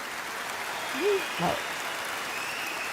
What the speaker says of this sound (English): I give them an enormous applause.